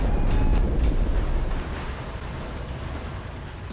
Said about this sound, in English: Upon entering, you'll be greeted by a very fastly moving train